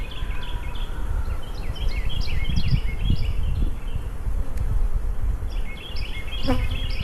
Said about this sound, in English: So many bees on the outside out here